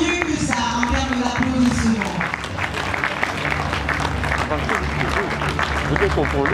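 Applause at a prize ceremony in Cameroon for a winner of the 2020 prototyping fund, a steady wash of audience clapping with a voice speaking over it at the start.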